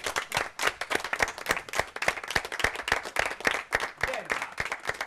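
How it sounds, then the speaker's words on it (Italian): A studio audience on an Italian Sunday television show breaks into lively applause, with dense rapid clapping that swells and dips, close and energetic, and a few voices mixed faintly underneath. "Io vorrei farti un applauso"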